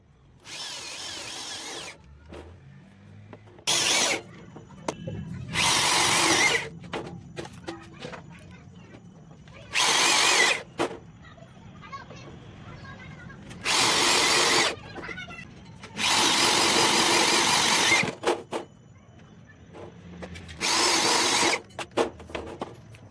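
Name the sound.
drill driving self-drilling washer-head screws into metal sheet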